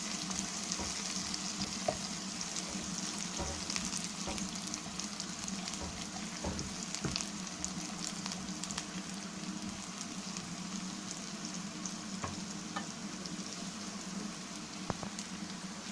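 Cumin seeds fry in a pan alongside onions for mushroom butter masala, giving a soft, even sizzle like light rain, with scattered clicks and scrapes of stirring throughout.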